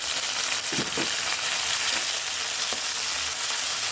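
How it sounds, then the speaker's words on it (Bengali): Onions fry with garlic and chili in a pan, making a loud, dense, steady sizzle with a few low bumps from stirring and no talk. "পেঁয়াজটা যে ভেজে নিচ্ছি"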